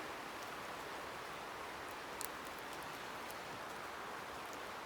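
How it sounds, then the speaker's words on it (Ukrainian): Steady rain falls in a constant, even hiss, with faint patters of drops on a surface and no voices, on a greenhouse. "Дощ іде"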